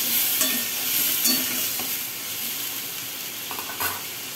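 Turmeric and spices for a fish curry sizzle and fry in a pan with a splash of water, a steady soft hiss broken by occasional scraping stirs, close and alone without talk.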